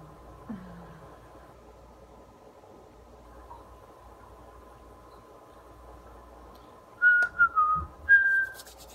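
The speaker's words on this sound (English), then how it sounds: "I whistle a lot because of the dogs." A person whistles a few short, bright tonal phrases near the end, fairly close and clear over a quiet indoor background.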